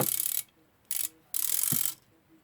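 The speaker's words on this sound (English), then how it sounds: "Last screw, or nut rather." Mechanism of a Bayard 1066 alarm clock during disassembly: a few close, bright ratcheting whirs in short bursts with quiet gaps as the last nut is turned off.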